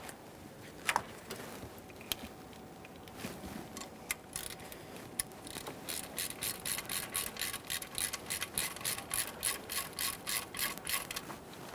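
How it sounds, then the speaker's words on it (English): A hand ratchet with an E6 Torx socket snugs the intake plenum studs on a 2011-2020 Toyota Sienna 3.5L V6, first sparse clicks, then a steady run of quick rhythmic ratcheting strokes, close and fairly quiet. "Go ahead and start them in by hand and snug them up using an E6 Torx socket."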